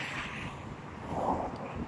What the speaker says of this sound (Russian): все равно ветер такой свежий чувствуется